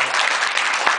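Dense, steady applause from an audience at a press conference for a karaoke machine launch, loud and continuous for the full second with no voices on top.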